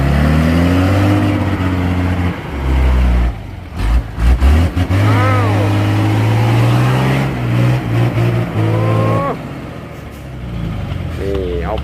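A car engine revs hard and drops between gear shifts, loud and close, with a pitch that rises and falls several times under excited talk.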